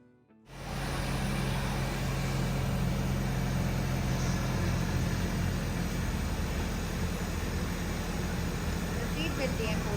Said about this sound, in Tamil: பேர் ஃபுட்லேயே நான் இப்போ வந்து வண்டியை ட்ரைவ் பண்ணுறேன்